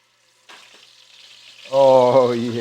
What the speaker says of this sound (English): When you hear it go in that buttery tallow and you hear that sizzle